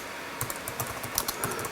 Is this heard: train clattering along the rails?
no